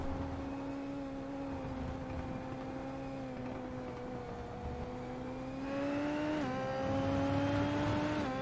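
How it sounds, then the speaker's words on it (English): Engine of a Formula Super Series race car heard on board at Indianapolis, a steady high whine. The throttle is feathered gently, giving small dips and rises in pitch before the engine swells louder toward the end. "You can hear the throttle input, just how delicate it is once you get to turn 7 through turns 8 and 9"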